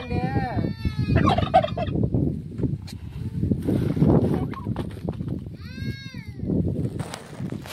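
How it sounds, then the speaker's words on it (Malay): Turkeys gobbling in bursts, loud and close, with people talking and handling sounds around the birds. "Abang nak tangkap ayam Belanda."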